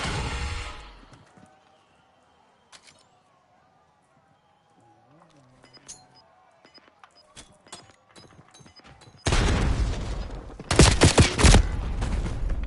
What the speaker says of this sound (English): Pistols in the gulag, why?